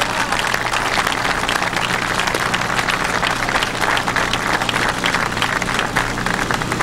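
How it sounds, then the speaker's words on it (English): A dense, continuous round of applause from the audience at a Pennsylvania mine rescue gathering fills the space evenly, loud and sustained with no break, and no voices stand out. "I want you to welcome and acknowledge Dave with a big round of applause"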